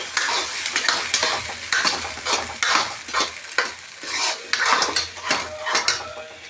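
Tadka tempering for a turnip dish frying hot in a pan while being stirred, with repeated metal utensil scrapes and clinks over steady close sizzling and no voices.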